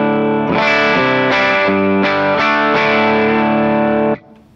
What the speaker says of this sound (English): the Super Bowl is just kind of made to sound like the amps are turned up a little bit more